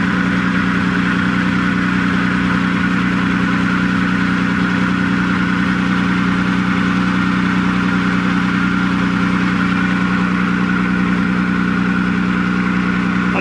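A 1996 Nissan Maxima engine idles just after starting, a steady close-up hum with a constant low drone and no change in pitch throughout.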